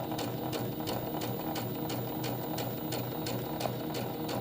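Sewing machine stitching a garment, a steady continuous mechanical whir with fast rhythmic needle clatter running the whole time, close and alone with no voices.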